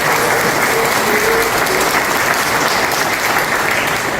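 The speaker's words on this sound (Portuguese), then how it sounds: "Uma salva de palmas." An audience at an autism spectrum awareness event gives a round of applause, dense continuous clapping at steady loudness throughout the few seconds, with no voices standing out.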